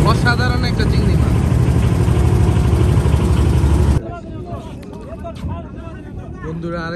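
A boat engine drones loudly and steadily on the Meghna river for several seconds, then cuts out abruptly, leaving quieter water ambience with someone talking.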